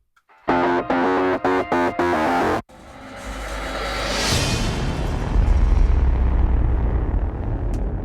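Heavy distorted staccato hits of a modern metal track stop abruptly, giving way to a huge cinematic boom that swells into a deep, rumbling, sustained roar with a hissing tail.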